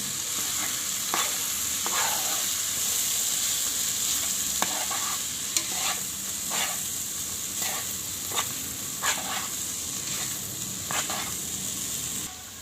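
Bitter gourd fries and sizzles in a rice cooker with no gas flame, a steady frying hiss running throughout while a spatula stirs and scrapes at irregular intervals, sharp scraping strokes standing out against the continuous sizzle.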